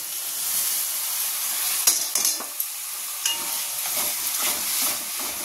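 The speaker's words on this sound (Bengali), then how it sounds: "দইটাকে ভালো করে কষিয়ে নেব" Spice paste with yogurt stirred and fried in a pan for a vegetarian curry, a steady hiss and sizzle with scraping spoon strokes and small clinks against the pan, close and fairly loud without any talking.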